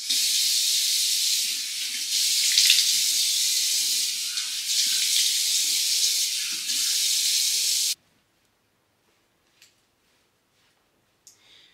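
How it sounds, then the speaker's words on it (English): Tap water runs steadily into a bathroom sink for several seconds with faint splashing as a face is rinsed, then cuts off abruptly, leaving near silence with a couple of faint clicks. "I do rinse off my face so that way my acne is not like too terrible"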